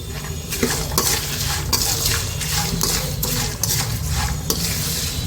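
Spoon stirring salt into poha chooda in a metal pan, with steady scraping and clinking of utensil against the pan over a faint sizzle, close and continuous with a few sharper knocks.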